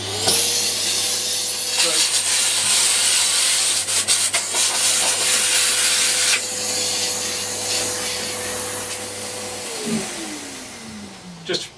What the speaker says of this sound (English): this vacuum works automatically with that machine, and it turns off 5 seconds afterwards